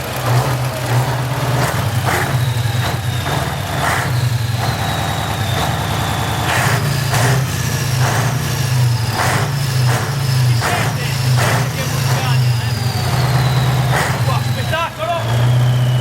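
Scania 142 truck from 1985 idling with a steady low diesel rumble throughout, close and loud, with someone talking over it.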